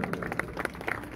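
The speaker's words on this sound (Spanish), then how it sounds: "Un fuerte aplauso." Audience applause at a live music show honours cameraman Carlos Guevara: a quiet, steady patter of many hands with a few sharper claps, heard from a distance for the whole moment.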